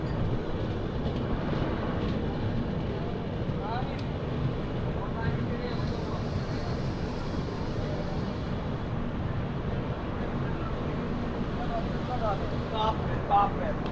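The Godavari SF Express rolls into Samalkot Junction, a continuous low rumble of wheels and carriages with faint squeals and clanks, while a person talks over it.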